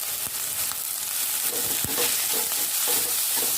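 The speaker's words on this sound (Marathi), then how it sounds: "हे आता आपल्याला थोडंसं परतवून घ्यायचं आहे." Carrots, capsicum and other vegetables stir-fried with a little salt for street-style Chinese bhel: a steady close sizzle broken by several scraping stirs, with no talking.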